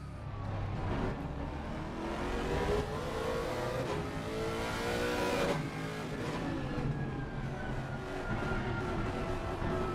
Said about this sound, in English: you can hear him throttling the throttle there